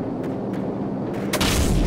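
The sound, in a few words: cannon fire in Call of Duty Modern Warfare video game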